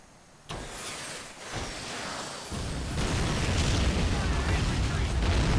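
Rocket artillery salvo launching in Men of War Assault Squad 2 during a multiplayer battle, a sudden roaring onset followed by a sustained, swelling rush of rockets that grows louder toward the end.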